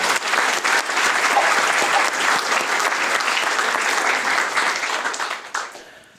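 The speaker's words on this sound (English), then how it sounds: "Can we have a round of applause for David's mum?" Loud, sustained audience applause fills the hall at a distinguished alumni awards event, a dense steady wash of clapping that holds for several seconds before thinning out at the end.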